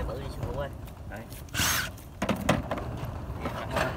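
A Milwaukee M18 Gen 3 cordless drill drives screws in short bursts of whirring, including one loud burst near the middle, while people talk throughout in the foreground.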